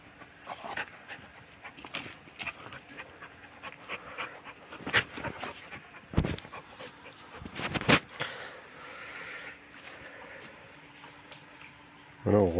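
Linda the dog pants in short, rhythmic breaths while wading through water, with occasional splashes and drips close by and a voice talking intermittently.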